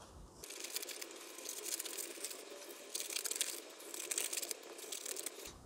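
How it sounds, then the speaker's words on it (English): Scissors cut layered coffee filter paper into strips, a quiet crisp snipping and crinkling that continues steadily with a few louder bursts. "And all I'm going to do is cut these into strips."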